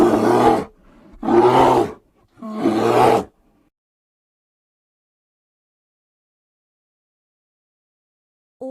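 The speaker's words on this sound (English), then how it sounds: "Bear." Three loud, close bear roars in quick succession, each deep and growling and lasting under a second, followed by several seconds of silence.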